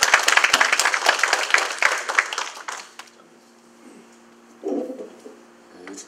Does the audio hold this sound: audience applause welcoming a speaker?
yes